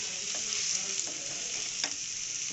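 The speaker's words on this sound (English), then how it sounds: "Mix it really well," Aloo kachori potato filling with coriander leaves being stirred and mixed in a pan, a steady soft scraping and sizzling with a few sharper clicks of the spoon, close and fairly quiet.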